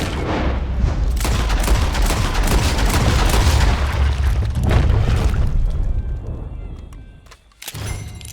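Gunfire in Red Dead Redemption 2, loud booming shots and rumbling blasts packed into a dense burst, then a brief lull before another hit near the end.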